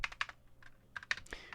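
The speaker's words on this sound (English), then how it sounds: "Sorry, I can't even type. This keyboard is a gaming keyboard, and it always throws me off." Fingers tap quick, clicky keystrokes on a gaming computer keyboard in short uneven bursts, close and fairly quiet.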